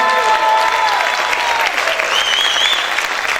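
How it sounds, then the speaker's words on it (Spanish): A church congregation applauds loudly and continuously, a dense wall of clapping with a few scattered shouts and cheers rising above it. "Grite y aplaude fuerte al Señor."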